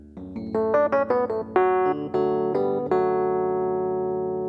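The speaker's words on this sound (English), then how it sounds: "I'm going to take you up to the Rhodes Mark II. Just listen." Rhodes Mark II electric piano playing a run of quick, bright notes and chords, then one long chord left ringing and fading slowly, played alone and close with no talking.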